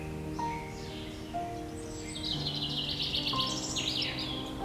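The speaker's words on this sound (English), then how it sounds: "Firetailed sunbird." A fire-tailed sunbird calls amid other birdsong, giving a series of thin, high chirps and trills over a soft background of tonal notes. The calls are moderately close and repeat irregularly, with no voices present.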